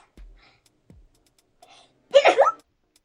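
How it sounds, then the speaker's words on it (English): A few soft breaths and clicks, then a single sharp, close sneeze bursts out near the end. "Oh, I'm gonna sneeze."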